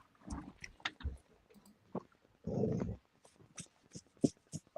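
Dog close by making short growls, snorts and chewing-like clicks in scattered bursts, with one longer rough growl in the middle, mostly alone without talk.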